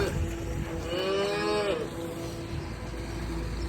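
Hungry calves in a barnyard let out one clear, drawn-out moo close by, rising and falling over a steady low background hum.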